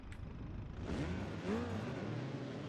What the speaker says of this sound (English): The car, when it's idling, sounds like the hard drive.